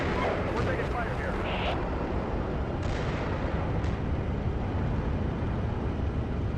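Heavy incoming gunfire and booming blasts in a combat setting, a dense, loud, continuous roar of shots with radio chatter voices over it.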